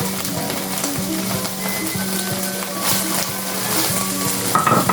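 Bird's eye chilies and green chilies sizzle and crackle hard in a hot frying pan, a loud, close, continuous frying hiss with stirring scrapes now and then, and no voices.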